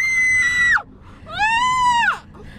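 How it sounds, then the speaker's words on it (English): A person recovering from wisdom tooth removal screams twice, two loud sustained high-pitched wails separated by a short pause. "Why are you screaming?"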